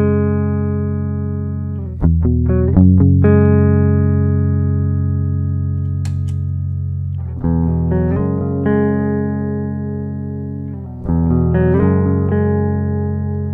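An electric guitar on its rhythm pickup plays ringing chords through an IK Z-Tone buffer boost pedal, with strums returning in a few phrases and each chord sustaining and fading in between, clear and close with no speech.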